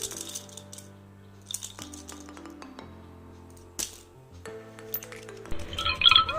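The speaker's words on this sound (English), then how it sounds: "baby rattle." A colourful plastic baby rattle shaken in short bursts gives light clinking, pinging beads over soft background music, with a busier rattling flurry near the end.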